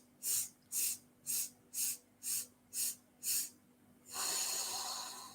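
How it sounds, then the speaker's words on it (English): Breathing through the nose during a stress-relief meditation: seven short, evenly spaced sniffs, then a single long, steady breath that fills the last second, close and alone without talk. "We're just taking long, deep breaths."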